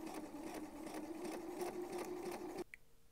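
A sewing machine runs a straight stitch through boxer shorts fabric, a steady close whirring hum with rhythmic needle pulses for under three seconds before stopping abruptly, followed by a brief faint click.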